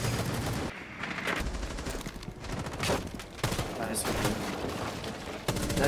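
ACOG-scoped gun in a video game firing in rapid bursts, sharp repeated shots cutting through a busy game mix with some voice chatter underneath.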